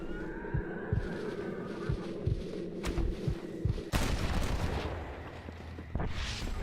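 Gunfire in Red Dead Redemption, scattered distant shots and thuds under steady background noise, then a louder blast near the middle followed by fainter reports.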